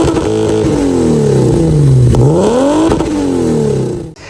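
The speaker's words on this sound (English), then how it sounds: "We've put a nice clean exhaust system on the car itself" A BMW E30 with a 2.9 engine and a clean aftermarket exhaust revs hard, its deep, bassy note climbing and falling in pitch twice before cutting off abruptly at the end.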